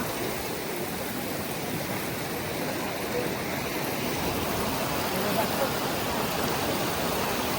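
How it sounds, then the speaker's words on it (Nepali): Natural mountain water near Muktinath pours down over rocks in a constant, close rushing hiss that stays even and continuous with no other sounds standing out. "लुक गाइज, पानी नेचुरल पानी माथिबाट आएको छ, यताबाट आएको छ"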